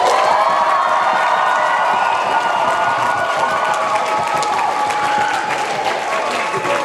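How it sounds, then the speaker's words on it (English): A large crowd applauds and cheers loudly and steadily, with whoops and shouts rising over continuous clapping. "give me a big round of applause"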